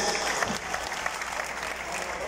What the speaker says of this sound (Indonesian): Tepuk tangan untuk Faiz.